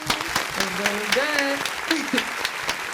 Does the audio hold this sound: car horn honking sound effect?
no